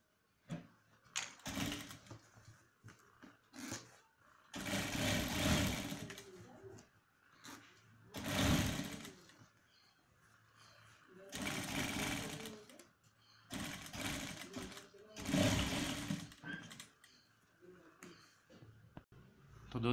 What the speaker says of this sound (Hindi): अब यहाँ वापस सीधे की तरफ अपन इसके ऊपर एक किनार की सिलाई लगाएंगे।